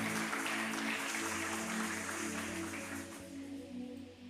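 A church congregation applauding and cheering together, a broad steady wash of clapping that holds loud for several seconds before thinning slightly at the end.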